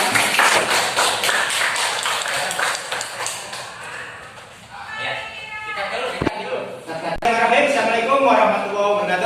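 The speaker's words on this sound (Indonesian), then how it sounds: "sebelumnya aplaus dulu dong untuk Pak Sabuna di kelas kita" A classroom breaks into brisk applause for a teacher, a quick run of close claps that fades out, after which voices speak over sparse taps and clatter.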